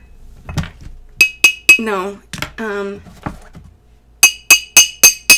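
A knife tapping an empty wine glass at a dinner table gives sharp ringing clinks, three at first and then a quick run of five, with someone talking between them.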